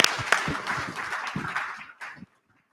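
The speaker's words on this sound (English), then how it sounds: "I just ask that you all join me in a round of applause for the team" Audience at a food supply chain summit giving a round of applause, a moderate spread of hand claps that holds steady for about two seconds and then cuts off abruptly.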